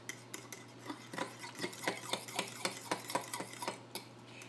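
Coffee cake batter made with buttermilk being mixed in a bowl, a quick series of soft, rhythmic scraping and tapping strokes, close and fairly quiet.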